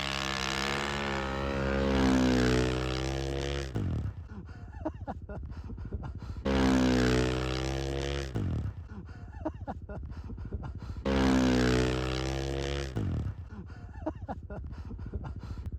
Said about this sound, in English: You can hear the bike just struggling in this deep snow.